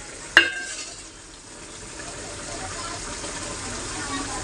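Egg and onion curry cooking in a pan at home, a soft continuous sizzle and bubbling after a brief sharp clink of a utensil near the start, steady and moderately quiet.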